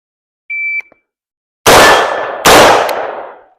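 A shot timer gives a single short electronic beep, then two loud, sharp rifle shots from a 16-inch Daniel Defense AR ring out about a second apart, each with a decaying ring over steel targets.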